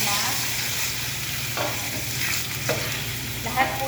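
Garlic sizzling in hot oil, a dense, continuous frying hiss close up with a few light stirring scrapes against the pan and no talking.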